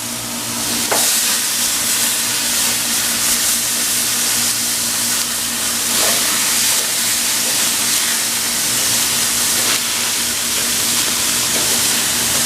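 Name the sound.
pork chops sizzling on a grill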